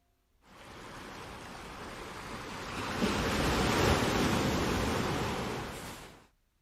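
Ocean surf from the film Portrait of a Lady on Fire, a broad, hissing roar that fades in, swells toward the middle as a wave breaks, then fades out; wind-like and distant, with no voices.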